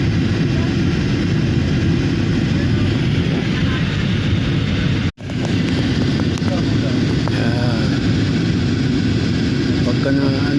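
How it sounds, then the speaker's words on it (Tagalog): Steady loud roar of an airplane cabin during descent through clouds, broad constant engine and air noise with one brief dropout midway, while people talk quietly over it. "lumulubak-lubak po yung eroplano"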